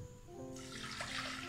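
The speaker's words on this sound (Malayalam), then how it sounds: "നമുക്ക് ഇതിലേക്ക് പാകത്തിലുള്ള വെള്ളം ഒഴിച്ചു കൊടുക്കാം" Water pours into a pressure cooker over washed lentils, a short splashing gush that starts abruptly and stays fairly quiet, without talk.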